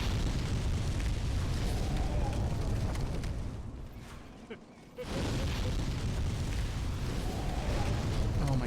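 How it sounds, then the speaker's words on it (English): Sustained roaring fire-breath blast in the video game Demon's Souls, loud and broadband, rumbling for several seconds, briefly dropping away near the middle before surging back at full force. "breathe some fire, dude"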